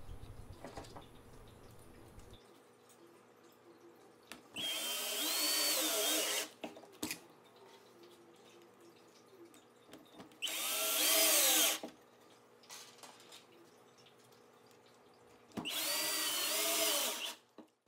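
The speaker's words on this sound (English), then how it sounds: "Just simply take 4 wood screws and screw it down." A power drill drives four wood screws to mount a battery-operated water pump onto a wooden board, with three loud whirring bursts of about two seconds each separated by quiet pauses and small handling clicks.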